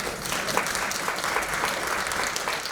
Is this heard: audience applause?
yes